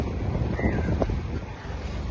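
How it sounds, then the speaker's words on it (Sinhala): A fishing boat returns to shore from the sea with its catch, a low steady rumble heavily buffeted by wind noise, with waves faintly mixed in. "මේ එන්නේ රස්සාවේ ගිය බෝට්ටුවක්."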